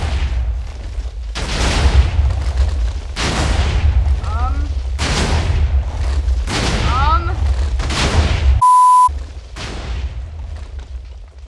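Massive chain of 1,000 TNT blocks detonating in Minecraft, heard as a series of loud, rumbling booms that swell and fade in waves, with a steady tone cutting in briefly near the end.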